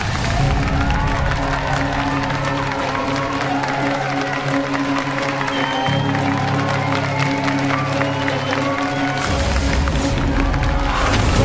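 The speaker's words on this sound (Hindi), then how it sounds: "और इन सारी जोड़ियों के लिए एक बार जोरदार तालियां हो जाए।" An audience at a best-couple dance competition on a drama stage claps and cheers for the couples, a loud, continuous roar of applause and crowd noise with whoops, holding steady throughout.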